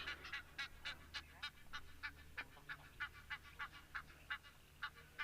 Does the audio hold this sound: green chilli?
no